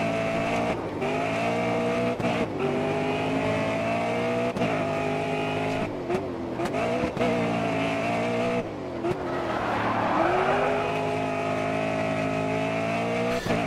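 A race car in GRID Autosport revs hard and shifts through gears with a loud, constant engine whine. Tires squeal briefly midway as the car slides out. No one speaks.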